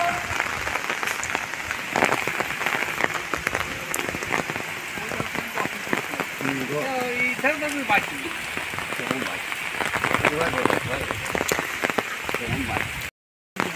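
Heavy rain pours steadily in a flooding village after four days of downpour, a dense, close patter continuing throughout while people talk over it.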